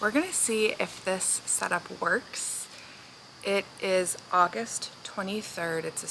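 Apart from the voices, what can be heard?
No everyday noises stand out.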